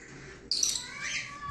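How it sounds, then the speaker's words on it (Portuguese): A pair of caged parakeets (budgerigars) gives quiet, high chirps and a brief squawky burst about halfway through, then softer twittering continues close by. "Meu outro casal de periquito."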